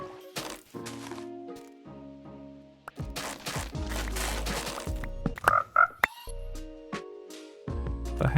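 A frog in the video game Minecraft, near a mangrove, gives several short croaks amid game music and other chimes and clinks, fairly close.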